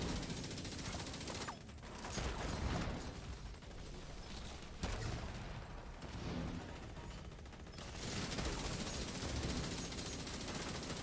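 Machine gun fire during a legendary-difficulty fight in The Division 2 at the District Union Arena, dense, continuous and loud across the whole stretch, mixed with clattering mechanical noise and game effects.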